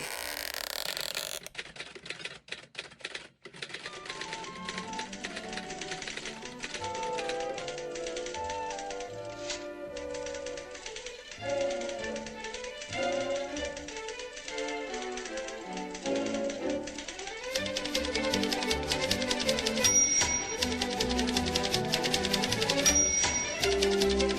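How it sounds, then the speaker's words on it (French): Dense mechanical clatter of many typewriter keys in a busy mail room, continuous tapping and clacking with occasional bell-like dings, fairly loud and steady throughout with no voices. "Effarés par le vacarme de centaines de claviers"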